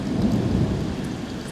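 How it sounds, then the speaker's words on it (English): Thunder rumbling through a heavy rainstorm in Cochabamba, a dense low roll mixed with steady rain hiss on surfaces, loud and continuous with no voices. "Here's some thunder."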